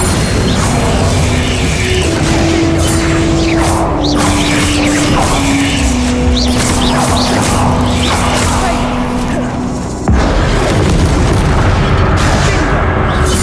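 A Bombarda spell explodes in Hogwarts Legacy, a booming blast layered over continuous mechanical game sounds and a steady tonal hum, with a sharp dip and a renewed burst near the end.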